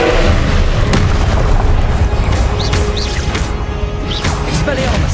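A fiery Confringo spell from Hogwarts Legacy, cast on PS5, explodes in loud, continuous booming blasts with crashing impacts and swishing whooshes, while a voice speaks over the din.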